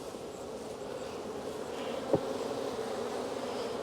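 Honey bees stream out of an opened hive being checked for wax comb, a dense, steady swarm hum close by with one brief louder buzz or bump partway through; no talking.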